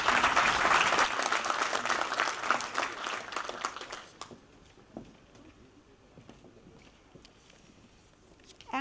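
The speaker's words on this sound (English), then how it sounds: "A hand of applause." Conference audience applauding a panel and moderator, steady clapping for about four seconds that then cuts off to quiet room noise with a few scattered claps.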